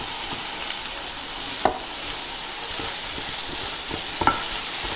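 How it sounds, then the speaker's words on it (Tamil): Onions and precooked chicken sizzle and fry in oil for a samosa filling, a steady bright hiss with occasional stirring clicks and pops, close up and without talk. "ஸோ இப்போ லைட்டாக வதக்கிட்டு நான் வந்து ஏற்கனவே வேக வச்சு சிக்கனையும் சேர்த்துடலாம்"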